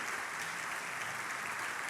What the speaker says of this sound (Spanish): ¿Cuánto le aplauden a Dios?